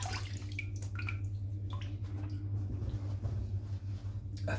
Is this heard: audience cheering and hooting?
no